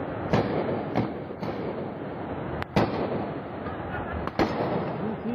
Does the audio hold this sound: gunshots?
yes